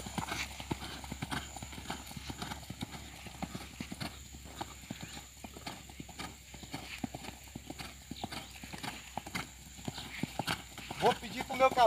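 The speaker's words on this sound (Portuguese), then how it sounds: "Ele continua galopando, ele está na minha mão, mas está galopando," A horse gallops with rapid, steady hooves clip-clopping close by, and the rider talks throughout over the hoofbeats, with a short whinny-like sound near the end.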